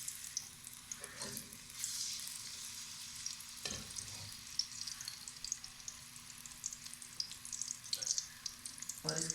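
Garlic ginger paste spits in hot ghee in a pot where taro has just been browned, a steady bright crackle with a few louder bursts and clatters of stirring throughout.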